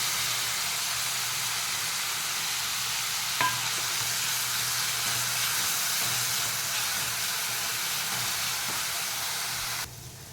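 Chopped large onion dropped into hot oil for a spicy Baroda usal, giving a loud, steady frying sizzle and hiss that runs nearly unbroken and softens at the very end.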